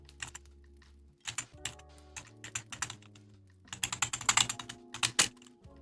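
Clicky keyboard typing comes in irregular bursts of rapid keystrokes separated by short pauses, close and fairly quiet, over a low sustained music bed.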